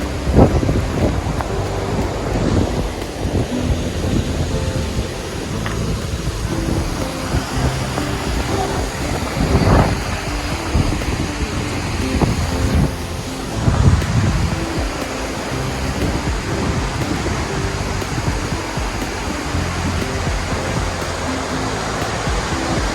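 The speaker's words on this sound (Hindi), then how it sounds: "तो आपने सुन लिया कि कितना शोर है पानी का भी, और मतलब बहुत ज़्यादा पानी का शोर था" Loud, steady roar of a rushing mountain river in the Naran Kaghan valley, with dense broadband water noise and gusty wind buffeting the microphone throughout, and occasional louder surges.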